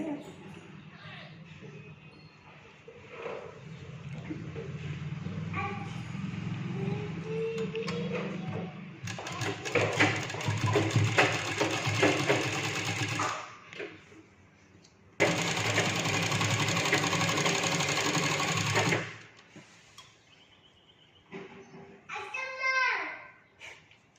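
Sewing machine stitching Punjabi dress fabric in long motorised bursts, each run loud and steady before stopping abruptly, with someone talking between and beneath the stitching.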